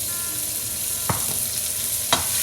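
Onions frying in a pan for a Sri Lankan mutton curry, with a steady close sizzle and two sharp stirring scrapes about a second apart, no talk.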